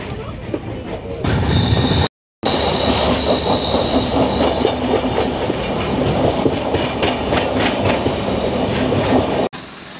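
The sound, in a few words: Tamralipta Express train arriving at Santragachi station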